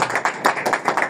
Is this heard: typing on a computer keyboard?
no